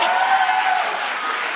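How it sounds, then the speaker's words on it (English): A studio audience claps steadily for a guest's mother, a brief, fairly loud, even wash of applause with no speech over it. "let's give it up for Alana's mom."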